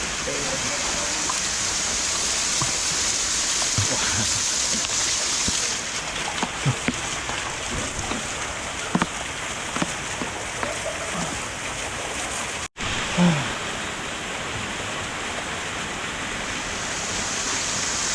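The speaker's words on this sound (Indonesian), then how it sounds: "aku coba yang di sebelah sini, terdapat aliran air terjun juga." Sing Sing Angin waterfall in Bali pours in a loud, constant broadband rush, close to the listener, with brief faint voices and a short dropout partway through.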